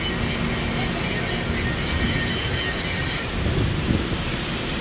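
An MRT train rolls past near the Kamuning footbridge, a loud, steady rush of wheels and rail noise with brief squealing, continuous and close throughout, with no talk.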